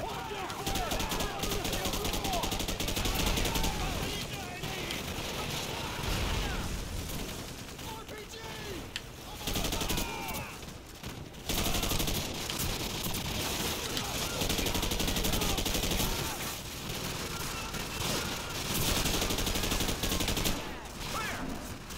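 Sustained video game gunfire from Call of Duty 4, dense automatic bursts and explosions filling the whole stretch loudly, with players talking over it.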